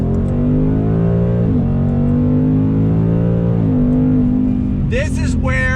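A 2021 Ford Mustang GT V8 with automatic transmission pulls hard under throttle, a loud sustained engine drone rising and falling through gear changes, close and dominant throughout, with a brief voice near the end.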